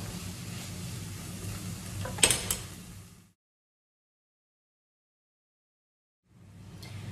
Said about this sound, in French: Ce que je vais faire maintenant, c'est que je vais rajouter mes encornets dedans